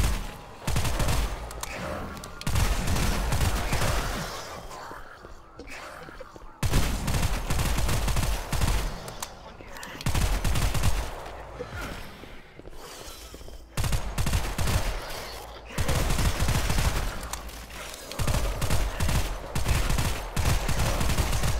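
Automatic weapon fire bursts in the PC shooter Hellbreach Vegas, loud sustained volleys in several long stretches separated by brief pauses, with a little voice faintly underneath.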